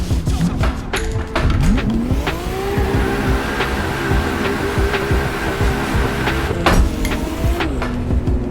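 A Toyota 2JZ-engined Nissan S14 drifts in a driving simulator game, its engine note climbing and falling in steady sweeps while loud, continuous tire squeal runs underneath throughout, with no voices.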